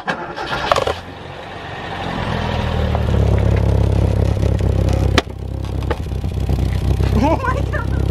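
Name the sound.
Toyota Corolla driving with cheap ricer exhaust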